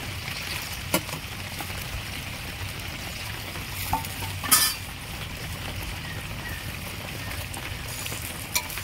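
Catla fish pieces go into simmering gravy for a Bengali kalia, with steady soft sizzling and bubbling and a few brief clinks and scrapes of a spoon stirring the pan, close and fairly quiet, no talk.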